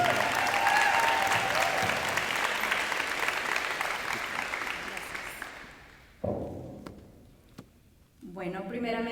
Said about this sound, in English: So a round of applause for Mrs.